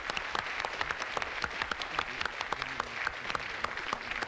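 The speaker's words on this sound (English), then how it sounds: "big round of applause to Dan Roberts." Television studio audience applause from a 1984 game show, a brisk, continuous patter of many hands with distinct individual claps standing out, moderately loud and steady throughout.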